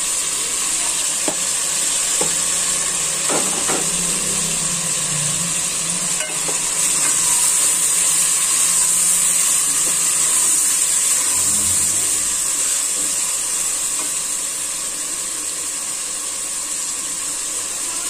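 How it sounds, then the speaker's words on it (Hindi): Chicken sizzles and crackles as it is stir-fried bhuna-style in a karahi, a steady loud frying hiss with occasional spatula scrapes and knocks, no talk. "तो अगर हम इसको चिकन को अच्छी तरह भूनेंगे,"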